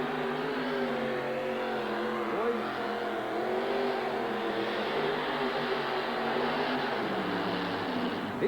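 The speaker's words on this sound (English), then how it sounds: "He put the Budweiser Avenger through its paces down on trackside." A Budweiser Avenger funny car with a blown Keith Black engine runs at a 1989 USHRA truck-pull event in East Rutherford, a loud sustained engine roar whose pitch wavers slightly as it holds steady.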